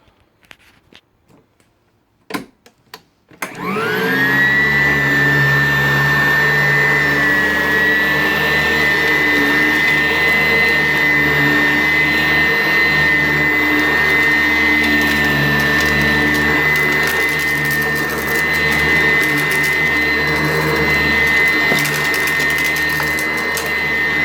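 A Sanitaire SC887B commercial upright vacuum cleaner starts up after a few light clicks and then runs loud and steady on carpet, its motor whine holding constant throughout.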